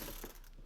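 Short, faint ratcheting click from a socket ratchet backing out 7mm screws on a factory door speaker in a 2021 Ford Bronco, a brief mechanical whir with no voices.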